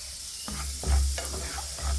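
Turmeric powder and salt stirred into hot ghee for a paneer gravy, a steady close sizzle of frying with a few scraping stir strokes over two seconds, no talking.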